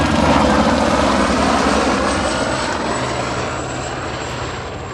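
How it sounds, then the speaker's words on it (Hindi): A helicopter on the Gaurikund to Kedarnath trek route roars steadily nearby, its rotor and engine noise loud and constant, then slowly fading as it moves away. "ये मेरे पीछे से हेलीकॉप्टर जा रहा है।"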